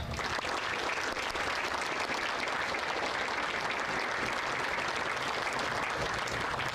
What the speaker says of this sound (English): Please give Team Noyes a round of applause